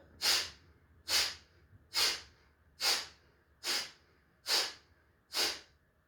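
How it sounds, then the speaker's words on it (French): Seven sharp, forceful breaths pushed out through the nose during a pranayama breathing exercise, evenly spaced about once every 0.85 seconds, close and clear with quiet pauses between them and no talking. "Vous n'avez que la solution d'expirer. Donc d'expirer de manière tonique."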